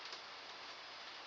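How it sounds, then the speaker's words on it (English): Heavy rain pours down steadily in a dense, continuous hiss with scattered ticking drops, close and even throughout, with no voices. "that is a lot of rain"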